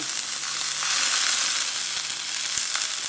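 Shallots fry in a pan for a Padang-style chicken turmeric-coconut curry, a steady close sizzle with faint crackles and light stirring clicks throughout, no voices.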